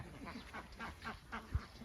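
Khaki Campbell ducks quack faintly in a laying-duck house set up in an old pig pen, a few short calls spaced across the moment against a steady background hiss.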